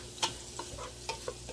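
Onion, celery and minced garlic cook in a pot for loaded potato soup, with a soft sizzle and a few brief scrapes of stirring close by.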